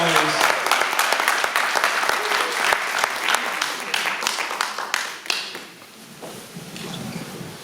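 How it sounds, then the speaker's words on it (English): Audience applause at a Kwanzaa celebration, a dense wash of many hands clapping loudly for about five seconds before thinning out and tapering off, with scattered voices in the crowd. "Y'all welcome over with a strong, awake round of applause."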